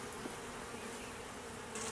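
Honey bees buzz in a dense, steady drone on a frame of a hive during an inspection, with the swarm close and continuous and no voices.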